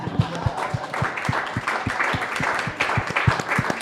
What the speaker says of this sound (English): I want you guys to give yourselves a round of applause right now